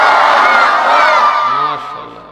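Crowd at a Bengali religious sermon gathering shouting the takbir slogan in unison, a loud, close massed chant that swells and then fades as voices drop off near the end.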